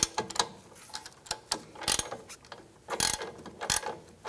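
A wrench ratcheting a sway bar link nut snug on a Buick Encore, quick clicking pawl bursts in uneven strokes, close and clear with no talking.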